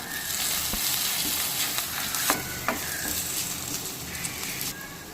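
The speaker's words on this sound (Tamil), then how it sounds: "1 கப் கருவேப்பிலை, 1 கைப்பிடி அளவு புதினா, இதையும் நல்லா ஆட் பண்ணி நல்லா கிளறி விட்டுக்கலாம்" Curry leaves and a handful of mint sizzle in hot oil in a pan while being stirred for capsicum rice, a constant close frying hiss punctuated by scraping spatula clicks.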